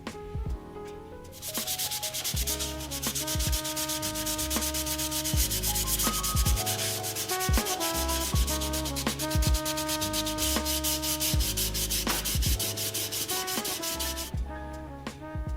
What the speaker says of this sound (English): So I would start off by wet sanding this piece all the way down to the plastic and start over.